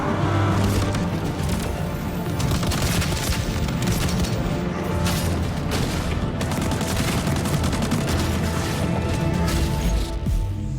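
Dense, continuous gunfire and explosive crashes from a video game fill the whole stretch loudly and evenly, with no clear voices on top.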